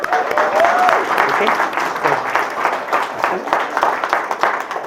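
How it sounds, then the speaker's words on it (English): Guests at a wedding ceremony applaud the ring bearers with a dense, sustained round of clapping from a nearby crowd, while a voice speaks over it. "Give them a round of applause"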